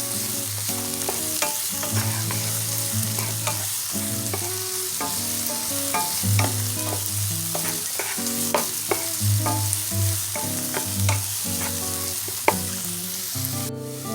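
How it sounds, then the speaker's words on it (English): Minced garlic sauteing in a pan for baked ziti, a steady close sizzle with occasional stirring, heard under continuous background music. "add in your minced garlic. Allow that to saute"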